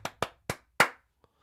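Hands clap four times in an uneven rhythm, sharp and close, followed by a faint fifth tap, with no talk.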